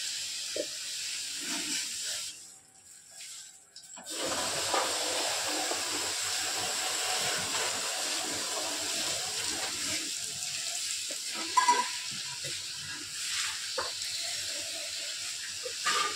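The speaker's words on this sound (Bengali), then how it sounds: "জল দিয়ে ওয়াশ করছে" Water sprays and splashes steadily while a stool is washed, a loud continuous hiss close by with a brief pause early on.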